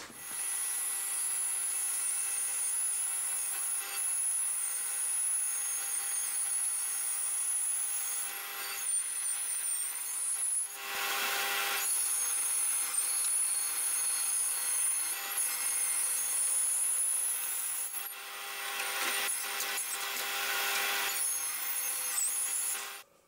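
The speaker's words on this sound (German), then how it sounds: "Jetzt geht's weiter an der Bandsäge." A band saw cuts wood for a folding table, giving a steady high-pitched whine that dips briefly a few times as the blade works through the piece, with no talking.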